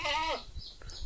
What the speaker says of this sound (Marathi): ही पहा आपली शेळी